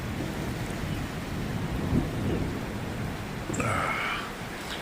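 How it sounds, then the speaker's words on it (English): Steady, dense rain pours outdoors beside a garden pond, a continuous close hiss of drops that thickens slightly toward the end, with a faint brief chirp-like tone partway through. "I'll try and catch some of the more rain as it starts getting thicker"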